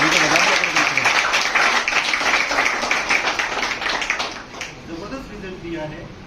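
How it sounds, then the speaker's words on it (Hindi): A crowd at a Saraswati school event in Nawalgarh claps in steady, dense applause that slowly fades toward the end as a voice speaks over it. "थोड़ी सी ताली"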